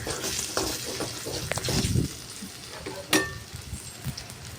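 About ten garlic cloves and curry leaves sautéing in hot oil for a brinjal and capsicum dish, with a steady close sizzle under occasional stirring scrapes and one sharp metallic clink.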